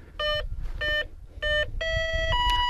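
An FMS F7F La Patrona RC plane's electronics boot up with a sequence of clear electronic beep tones: three short identical beeps, then two longer ones at shifting pitch, close and distinct over a low background rumble.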